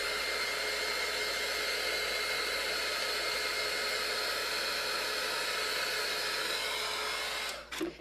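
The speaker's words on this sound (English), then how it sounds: "I'm using the heat gun." A heat gun blows a steady, loud, even hiss for about seven and a half seconds while working on a pallet board, then cuts off abruptly near the end.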